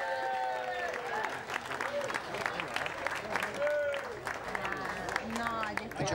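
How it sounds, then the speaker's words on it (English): An audience gives a round of applause at a prize-giving as a team is called up, steady crowd clapping running throughout with faint cheers and a voice talking over it. "So if they come up here and take a great round of applause."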